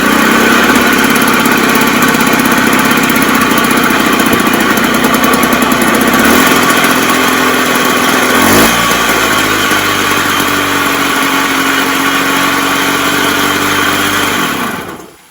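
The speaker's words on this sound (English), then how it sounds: "So I'm just going to give it a turn over now, put a choke down." A Puch Maxi moped engine running with the choke on, a loud, close, buzzing two-stroke drone that holds steady, dips and shifts pitch midway, then cuts off at the end.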